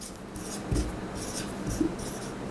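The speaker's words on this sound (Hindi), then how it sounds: "हम यहां पे साइड में लिख लेते हैं" A pen scratches on paper in a short run of small strokes, soft and close, with no voices and only a faint rustle of hands around it.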